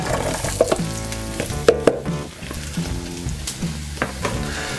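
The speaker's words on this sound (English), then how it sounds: "I'm gonna start sauteing my onions." Onions sauté in olive oil in a hot skillet, giving a close, continuous crackling sizzle with occasional brighter pops and stirring clinks throughout.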